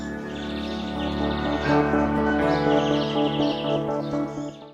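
Newly hatched quail chicks chirp in a brooder, a busy chorus of high, repeated peeps layered over one another, close and continuous.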